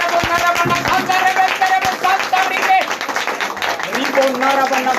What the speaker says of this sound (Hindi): मतलब जोरदार ताली बजाओ।